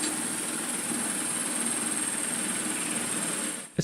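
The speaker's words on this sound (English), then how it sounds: "I've built a test rig that allows the motor and rotor head to pivot in one axis" A motor-driven model Osprey rotor head spins on a test rig that lets it pivot in one axis, giving a steady close buzzing whir with a high whine that stops abruptly.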